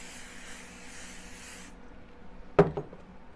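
A spray bottle mists fabric during sewing of a pearl bead handle purse, a steady soft hiss for a couple of seconds, then a sharp knock as something is set down nearby.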